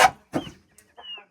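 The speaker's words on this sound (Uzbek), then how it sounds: "Mana jo'jalar nima deyapti?" Young chicks in a farmyard brood give a few short, clear peeping calls, spaced out and close by, with brief silences between them.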